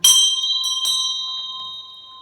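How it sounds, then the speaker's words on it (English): A metal bell struck once with a crystal gives a bright, sustained ring of clear overtones that slowly decays, with a few faint light taps along the way. "I decided to ting the bell that I ting with a crystal instead of with its own tinger"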